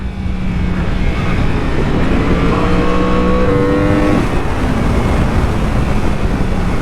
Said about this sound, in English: Just hold it on the limiter and brake.